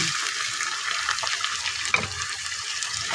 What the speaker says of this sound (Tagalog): Lagyan na natin yung ating labong at pakuluan natin.